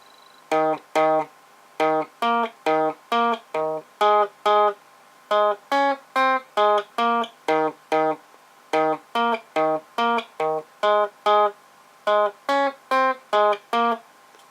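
Electric or acoustic guitar slowly picking the single-note riff of a song, a steady run of evenly spaced plucked notes repeated as a phrase, clear and close with no talking.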